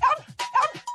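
A small dog on a children's television show gives a few quick, high yapping barks in a short rhythmic burst, close and fairly loud, with a bell-like ring mixed in.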